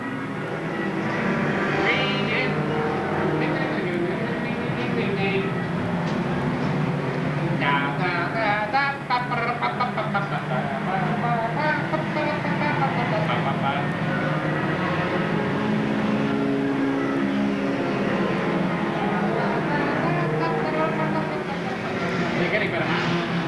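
Race cars at Seekonk Speedway weekly racing in 1993, their engines droning steadily at a distance beneath continuous talk.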